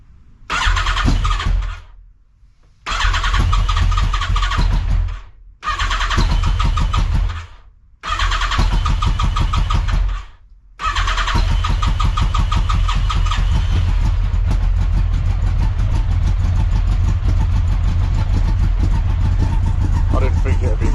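A Yamaha XJR 1300 motorcycle with throttle position sensor trouble cranks and catches several times, dying out between tries, then settles into a steady, close, rough idle while it warms up; a voice speaks briefly.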